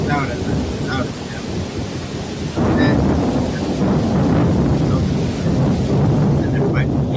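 Thunder rumbling through a storm with strong wind, a broad, heavy roar that swells partway through and continues steadily, with faint voice-like sounds in the background.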